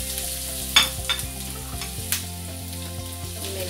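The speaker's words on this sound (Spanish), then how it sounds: "Entonces vamos a empezar a hacer aquí un sofrito" Finely chopped onion frying in a pan as the base of a sofrito, a steady close sizzle beneath musical tones, with a few stirring knocks around the first seconds and no talk.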